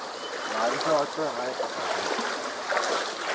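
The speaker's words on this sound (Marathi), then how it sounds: "पाणी बघा कसं येतोय बऱ्याचसा, फ्लो बघा पाण्यात" Water in a freshwater stream in the Konkan countryside runs in a steady broadband rush, with someone talking over it near the start.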